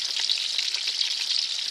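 Food sizzles and spits steadily in a hot pan during Myanmar-style cooking at Inle Lake, a close, continuous bright crackle with no talking.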